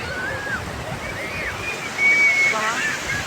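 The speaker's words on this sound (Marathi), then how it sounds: "ह्या पाण्याच्या लाटा ज्या वेळेला आपल्या पायाला लागतात तेव्हा पायाकडची वाळू सरकते" Ocean waves wash over sand at Diveagar beach, a steady broadband surf hiss that swells slightly near the middle, with faint voices in the background.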